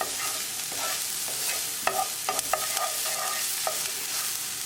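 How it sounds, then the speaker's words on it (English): Green chili frying with onions in a spiced tadka for corn masala, a steady close sizzle with scattered scraping stirs and clinks of a spatula, no talking. "Cook green chili along with tadka for half a minute."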